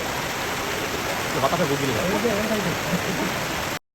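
Rain pours down on an open-air garlic market in Haripur, a steady dense hiss of falling water with faint voices murmuring underneath.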